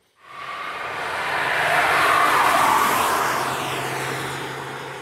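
Hyundai HB20 Turbo three-cylinder engine running while driving, a steady smooth drone with broad road and wind noise that swells and then holds at an even, moderate level.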